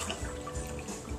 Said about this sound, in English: Water for your tea.